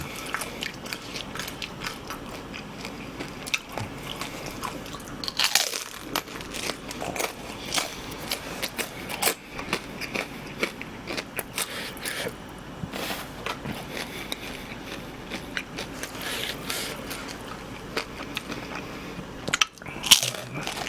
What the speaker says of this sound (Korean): 길버터김이 돌게장을 씹는 것 같아